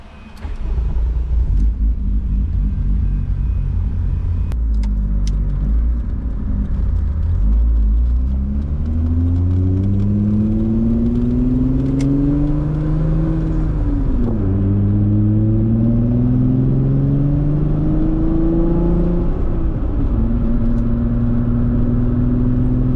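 A Yamaha Cygnus scooter rides along after a fresh alignment, its engine giving a loud, steady droning rumble that rises and falls in pitch through several accelerations, with no speech.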